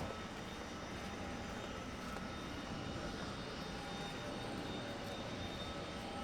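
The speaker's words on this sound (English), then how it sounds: "if you get a plane coming in, we'll see it happen" An airplane approaching to land at Maho Beach airport on St. Maarten, a steady, moderately faint engine roar with no clear rise or fall, heard alone with no talk.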